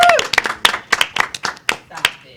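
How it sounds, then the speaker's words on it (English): A small audience at a GameFest 2019 panel claps for a panelist in a short, uneven burst of close, individual claps, while voices talk over it. "Round of applause."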